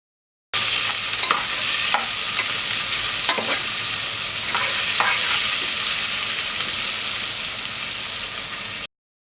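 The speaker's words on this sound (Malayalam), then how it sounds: "ഇനി നമുക്കിതിലേക്ക് ചതച്ചു വെച്ചിരിക്കുന്ന ഇഞ്ചിയും വെളുത്തുള്ളിയും കൂടി ചേർത്ത് കൊടുക്കണം. അതിനുശേഷം വീണ്ടും നന്നായിട്ട് വഴറ്റി കൊടുക്കണം." Onion with crushed ginger and garlic sautés in a pan for duck mappas, a continuous loud crackling sizzle broken by a few scraping stirs of a spoon, close and steady with no one talking.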